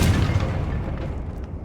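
A Confringo blasting spell from the video game Hogwarts Legacy goes off as a single loud, booming explosion with a deep rumble that slowly fades, with no voices.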